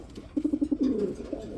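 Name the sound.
pigeons cooing, beauty huma pigeons for sale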